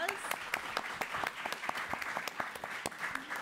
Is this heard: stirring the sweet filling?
no